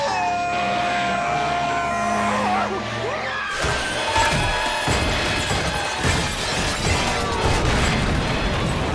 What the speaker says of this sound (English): And this is SpongeBob destroying the Krusty Krab.